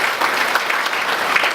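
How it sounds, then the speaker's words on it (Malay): Sustained applause from an audience at an UMNO Youth gathering in Paya Besar, dense steady clapping filling the room for a brief stretch in honour of a guest of honour. "Beri tepukan gemuruh kepada Yang Berhormat Tan Sri"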